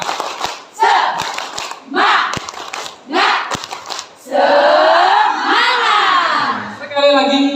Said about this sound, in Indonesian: Tepuk semangat. Prok. Prok. Prok.